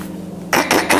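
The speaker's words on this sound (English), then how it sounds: "Clear my throat" A person clears their throat in three quick, harsh bursts close to the microphone, after a moment of quiet room hum.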